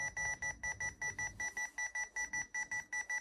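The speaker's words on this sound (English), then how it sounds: "I don't know what happened to my gimbal. It just started beeping for some reason." A camera gimbal beeps rapidly and steadily, about four evenly spaced tones per second in an unbroken string, fairly faint and with no talking.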